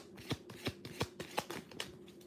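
Tarot cards being shuffled by hand for a reading, a run of about seven crisp, evenly spaced riffles and snaps close up, with no talking.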